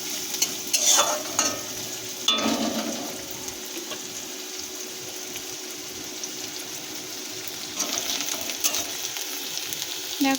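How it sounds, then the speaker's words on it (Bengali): Onions frying in oil for egg cutlets give a steady, fairly quiet sizzle, broken by a few brief stirring scrapes near the start and again toward the end, with no talking. "আমাদের পেঁয়াজগুলো লাল লাল করে ভাজা হয়ে গেছে"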